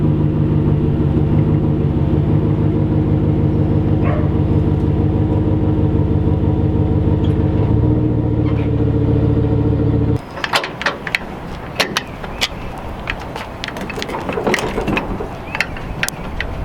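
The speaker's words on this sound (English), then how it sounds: "So let's back up into the big trailer and get this going." A truck reversing toward a large trailer, its engine rumbling steadily and loud up close, then giving way to a rougher stretch of clanks, knocks and rattling as it closes in.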